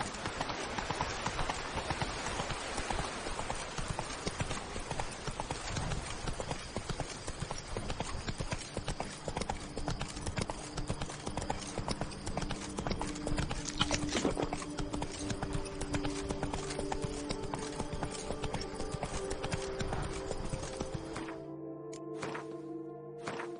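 Roach, a horse in The Witcher video game, gallops with a fast, steady clip-clop of hooves that runs loud and continuous for most of the stretch before cutting off near the end.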